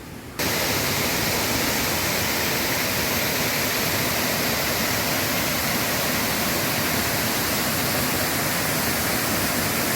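A steady, dense rush of a forest waterfall's seventh tier roars continuously without pause, broadband and unchanging, with no voices.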